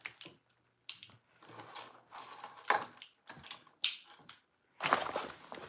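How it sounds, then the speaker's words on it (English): A sewing machine top stitching a backpack seam runs in several short, separate bursts of rapid mechanical clatter with brief pauses between them, close and fairly quiet, with no voices. "I'm going to top stitch."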